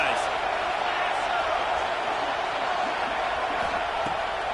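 Roaring football stadium crowd in a college football video game, LSU vs Oklahoma, a loud steady wash of cheering that fills the whole clip behind play-by-play commentary.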